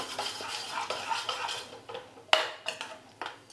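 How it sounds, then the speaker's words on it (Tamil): Eggs with turmeric powder are beaten in a bowl, producing close, rhythmic clinks and scrapes of a utensil against the bowl, with a sharper knock partway through. "முட்டையை நல்லா கலந்து விட்டுட்டேன்"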